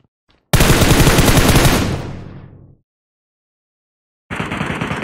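Loud automatic gunfire in the PUBG Mobile game: a long, rapid burst that fades out, then silence, then another burst starting near the end.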